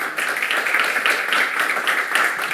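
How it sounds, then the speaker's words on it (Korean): A church congregation applauds to welcome married couples coming forward, a steady, dense wash of clapping that holds evenly throughout without any talk over it. "우리 박수로 환영해 주시면 감사하겠습니다"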